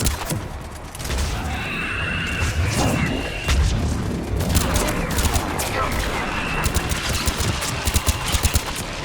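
Missile launches and heavy explosions in the video game Mass Effect, a dense barrage of booming blasts and rapid gunfire-like bursts, loud and continuous, with voices faintly mixed in.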